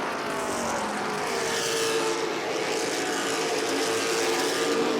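Late model race cars battle at Langley Speedway, a steady loud roar of several engines sweeping past at a distance, with the pitch shifting as the pack moves along the back straightaway.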